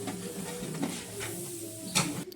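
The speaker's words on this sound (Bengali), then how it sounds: "নেড়ে চেড়ে মিক্স করছেন।" Biryani spices being stirred and mixed by hand in a large pot, a soft continuous scraping and rustling with a low background hum, and a brief louder clatter near the end.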